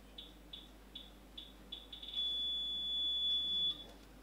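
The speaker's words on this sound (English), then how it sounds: "So if you are too close to the wall, the alarm is released." A proximity alarm on an exhibition wall chirps in a run of short, evenly spaced high beeps, then switches to a sustained continuous tone before cutting off, heard alone in a quiet room.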